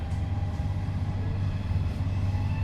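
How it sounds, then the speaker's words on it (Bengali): Interior rumble of a train running from Rome to Milan, a steady low drone with faint hum and no distinct clatter, continuous and even throughout. "আমাদের ট্রেনটি আবার চলা শুরু করেছে"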